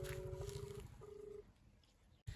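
A faint phone ringback tone plays as a call goes unanswered, with two steady beeps separated by a short pause, then a click at the end.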